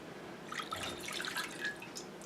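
Three-quarters of a cup of soy sauce is poured out as the base for a Korean-style barbecue sauce, giving a faint, thin trickle with light splashy drips and no talk.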